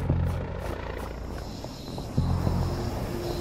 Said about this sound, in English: I would love to be able to shoot that helicopter down.